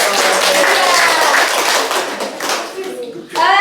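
Classroom clapping during a primary-school microteaching lesson, a dense burst of many hands applauding together for a few seconds, then fading as children's voices rise at the end.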